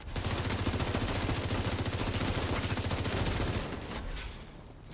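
Rapid sustained automatic gunfire in The Division 2, loud and close, continuing for several seconds before tapering off into quieter ambience.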